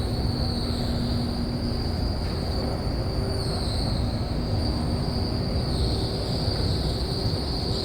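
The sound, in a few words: Montréal Métro train wheels squeaking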